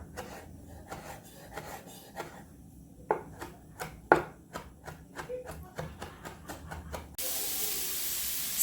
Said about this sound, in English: But I'm going to start by kind of dicing these up.